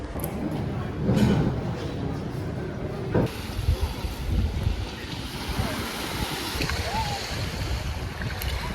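Warm sea washing onto a private beach at Ksamil, Albania, steady surf and wave wash with gusts of wind buffeting the microphone, fairly quiet and continuous with faint background activity.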